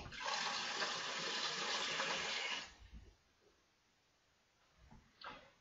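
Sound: water filling a demijohn

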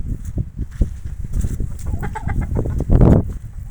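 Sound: turkeys

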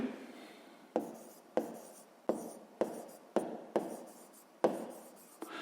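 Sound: writing in a notebook during a maths exercise

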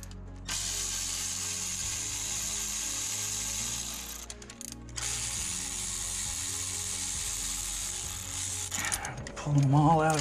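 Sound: ratchet unbolting an engine's alternator bracket bolts

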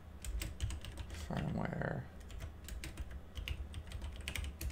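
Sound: typing on a computer keyboard

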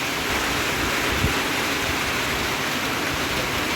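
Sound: rain falling

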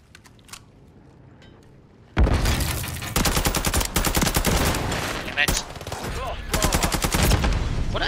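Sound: gunfire in the video game Call of Duty

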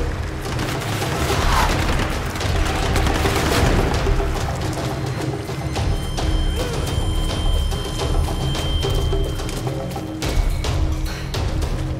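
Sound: enemies shooting gunfire in Tomb Raider video game

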